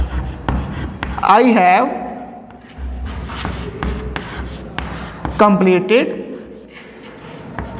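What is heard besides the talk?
writing on a board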